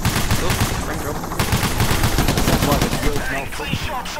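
Dense, loud gunfire rattles almost without pause through a shootout in Payday The Heist, with overlapping bursts and impacts and voices mixed underneath.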